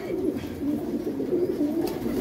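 Low, throaty coos of old Lahori breed pigeons in a loft, repeating in soft rolling phrases, close by, with faint background noise.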